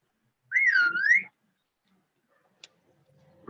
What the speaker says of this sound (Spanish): Ahí a quién le chiflaron